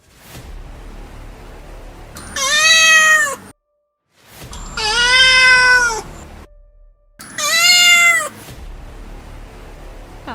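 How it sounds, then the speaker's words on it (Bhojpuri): A black cat in a Bhojpuri horror cartoon gives three long, loud, drawn-out meows, each separated by a brief silence, close and alone with no talk. "का जने ये बिलाई का चाहतिया?"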